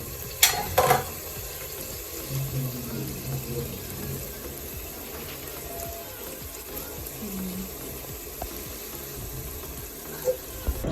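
Water runs and splashes into a cooking pot while Nigerian native rice is being prepared, a continuous hissy pour with a few clanks, fairly close and without speech.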